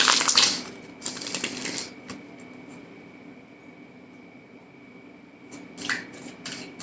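Brisk riffling and slapping of a tarot card deck being shuffled in two short bursts, one at the start and one near the end, with a quiet pause between.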